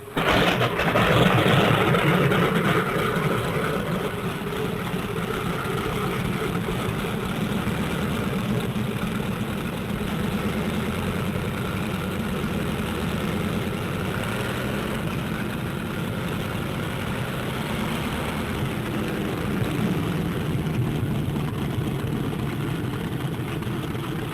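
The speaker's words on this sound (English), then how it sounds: "On the field, planes warm up. It's takeoff time for the Thunderbolts." Single-engine Thunderbolt fighter planes warm up on an airfield: a steady, loud engine drone with a deep low rumble holds without a break. The roar swells slightly at the start, then stays constant.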